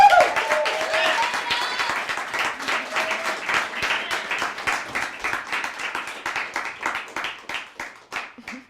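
An audience at a poetry festival applauds poet Dana Marie Inez: close, lively clapping that comes in rhythmic waves and slowly thins out, with a few faint voices underneath.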